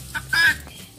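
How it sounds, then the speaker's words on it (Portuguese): A brief, close rooster call, a short strained crow with raspy clucking tones, heard on its own. "O cara tá cantando. Olha lá o galo."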